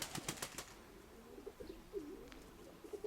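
Pigeons coo softly in low, rolling calls, with a few sharp flutters and clicks near the start, all faint against a quiet background.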